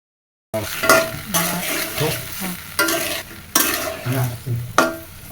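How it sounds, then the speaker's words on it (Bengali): Mango pieces fry in oil in a pan, sizzling loudly as they are stirred in repeated scraping strokes, each stir bringing a fresh burst of hiss, with no voices. "এবার আমগুলো ভেজে নিয়ে এর ভিতরে দিব একটু গুড় চিনি"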